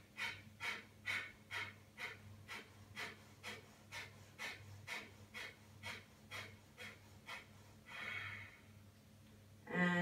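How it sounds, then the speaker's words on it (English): Breath of fire yoga breathing: a steady run of quick, forceful nasal exhalations, about two per second, fairly close and even, with a longer deeper breath near the end and no talking. "a quick fire breath here, inhale."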